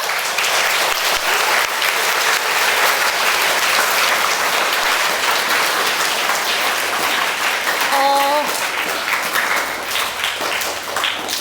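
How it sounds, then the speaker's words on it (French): Sustained crowd applause, many hands clapping steadily for several seconds, dense and fairly loud, with a brief voice near the end. "Je pense que ça mérite une main d'applaudissement"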